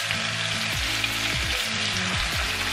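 Stuffed bell peppers filled with minced meat browning in a hot pan, meat side down, giving a loud, steady, close sizzle without pause, with low wavering tones underneath.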